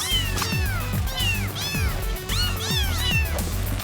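Several kittens meow repeatedly in overlapping high, rising-and-falling cries, close and loud, with no talking, in a sci-fi comedy radio drama.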